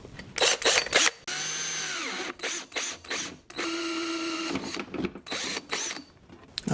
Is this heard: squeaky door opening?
no